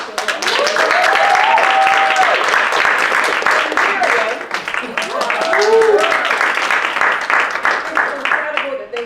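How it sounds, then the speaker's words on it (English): A crowd applauding steadily, a dense wash of clapping that swells and carries on, with a voice speaking over it. "can we give a round of applause"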